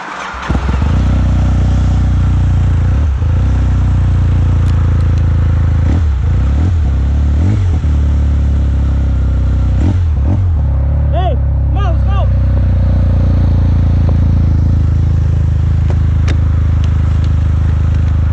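A Polaris FST Turbo snowmobile engine runs steadily and loudly up close, a deep continuous drone with a few brief revs and some clattering on top.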